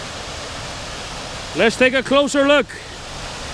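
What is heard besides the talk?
waterfall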